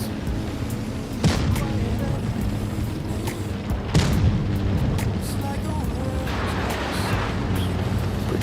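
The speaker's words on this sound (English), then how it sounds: "I kind of like the way the tanks explode in this game." Tank explosions in World of Tanks Blitz Reforged, with heavy booming blasts around the one- and four-second marks over a constant rumbling battle background.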